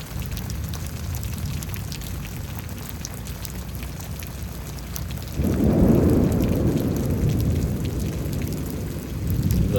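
Thunderstorm in Houston, Texas: steady rain hiss throughout, then a heavy low rumble of thunder rolls in around midway and lingers loud to the end.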